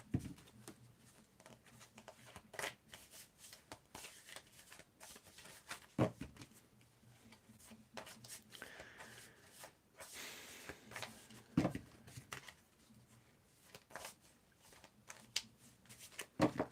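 Soft, repeated riffling and shuffling of a deck of tarot cards, close by, in irregular bursts with brief pauses and no talking.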